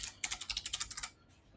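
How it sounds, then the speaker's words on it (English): Quick typing on a computer keyboard in a text editor, a rapid run of about a dozen close, crisp keystrokes in an even rhythm, then the clatter stops and near-silence follows. "I'm just going to go ahead and start typing in the top left side of our text editor"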